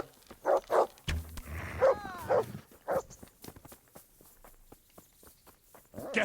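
Dog attacking in the medieval game Kingdom Come: Deliverance, with several sharp barks and growls in quick bursts, then a pause and another bark, mixed with footsteps and scuffling at moderate level.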